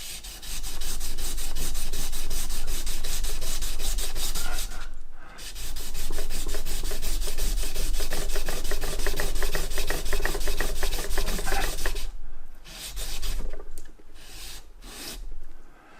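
A steel card scraper being sharpened, heard as steady rasping, rubbing strokes close by that run almost continuously, with brief pauses before a few shorter strokes near the end.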